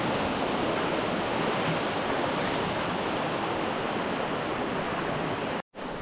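Water rushing steadily at a natural cold spring used as a bathing spot, a loud continuous broadband flow that briefly cuts out near the end.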